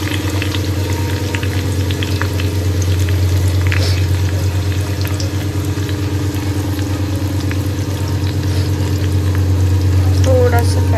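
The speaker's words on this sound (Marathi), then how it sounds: "सो हा ब्राऊन होईपर्यंत मी फ्राय करून घेते पहिल्याला।" Onions frying in a pan for egg biryani, a steady close sizzle running throughout under a constant low mechanical hum, with a few faint clinks toward the end.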